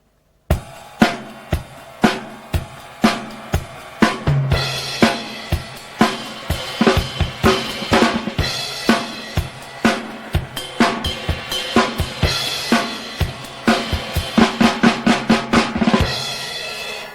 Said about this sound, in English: Now you can also play that on the cymbal.